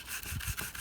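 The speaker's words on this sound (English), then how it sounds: "I've got 320 grit wet or dry sandpaper, and I'm going to sand in the direction of the original tear." A leather steering wheel is sanded by hand with 320 grit wet or dry sandpaper, a quick brushing rub of short back-and-forth strokes, close and soft with no talking.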